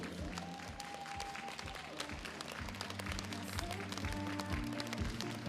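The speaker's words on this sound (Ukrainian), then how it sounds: "І оплески ці зараз будуть звучати для вас, діти, від ваших найкращих батьків" Parents applaud young gymnasts at an award parade of a children's gymnastics tournament in Kyiv, steady clapping that runs throughout amid crowd noise and scattered voices, with a tonal murmur of speech in the background.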